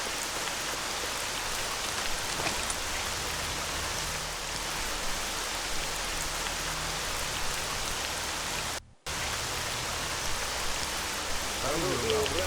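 Steady rain pours in Stalker at the military warehouses, a dense continuous hiss of drizzle and drops, with a momentary dropout near the end.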